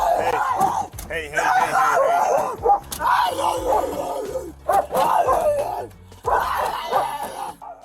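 A police dog barks loudly and repeatedly at a woman under arrest, in harsh bursts that mix with her shouting and screaming close to the recording.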